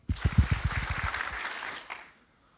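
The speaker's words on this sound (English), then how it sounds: "we have to applaud, and then we have to cut it off right away" An audience at a JavaScript conference bursts into brief, loud applause with sharp individual claps. The clapping stops abruptly after about two seconds and silence follows.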